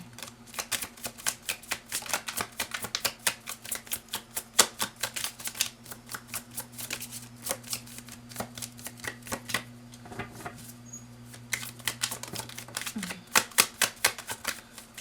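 Tarot cards being shuffled make a rapid, close riffle of crisp flicks that continues through the whole stretch, with a brief lull near the end before the quick flicking resumes, no talking.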